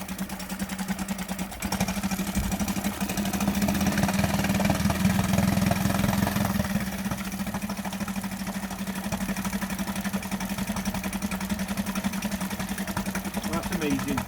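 A Honda BF 5A four-stroke outboard engine runs after sitting unstarted for two years, a steady close idle hum with a brief louder surge early on, while people talk over it.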